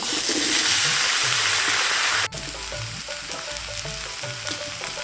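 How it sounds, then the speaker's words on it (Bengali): Taro pieces hit hot oil with fried chopped onion, a loud, bright sizzle that suddenly drops to a gentler, steady frying crackle, with birds cooing faintly in the background. "তেলটা গরম হয়ে গেছে এখন দেওয়া দিব পেঁয়াজ কুচি পেঁয়াজটা ভাজা হয়ে গেছে এখন দিয়ে দিব কচুর"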